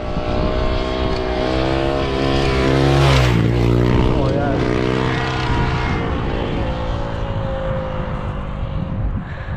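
Yamaha 450cc motorcycle engine revving loudly nearby, a strong buzzing roar with rising and falling pitch as it accelerates and passes, sustained for several seconds.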